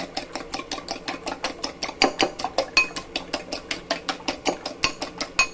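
Three eggs beaten in a bowl for steamed egg, a steady rapid rhythm of sharp utensil clicks against the bowl, about three to four strokes per second, close and clear with no talking.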